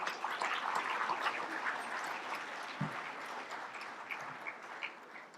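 Banquet audience at an award dinner applauds in a steady, fairly faint wash of many hands clapping, tapering slightly toward the end.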